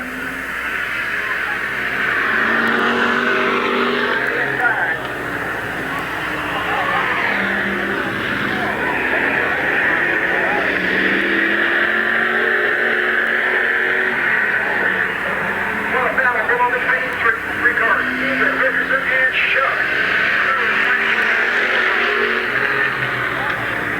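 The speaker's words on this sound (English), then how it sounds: "4 cars left in this street stock pursuit race." Street stock cars circle Midvale Speedway in a pursuit race, a steady loud roar of several engines rising and falling throughout while an announcer calls the action over the top.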